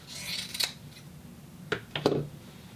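Scissors snipping through a fur piece for a sewn wrap: a few short, crisp cuts close by, clustered in quick bursts with brief pauses, on their own with no talking.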